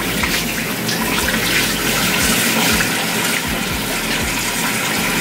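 Water runs steadily from a tap during face washing, a continuous close hiss and splash with occasional low thumps from hands moving in the stream.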